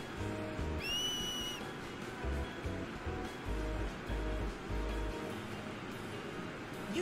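A sharp two-note finger whistle rings out clearly once in a Final Fantasy X Remaster scene where Blitzball players are cheered on, sounding over soft ocean surf and a low rhythmic background.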